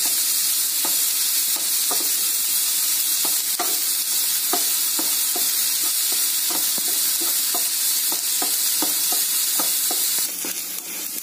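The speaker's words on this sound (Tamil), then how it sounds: "நல்ல ப்ரௌன் கலர் வர வரைக்கும் நல்லா வதக்கிட்டுருங்க" Onions sauté in a hot pan for bread chilli, frying until brown with a steady loud sizzle while a utensil stirs and scrapes at regular intervals, close and continuous.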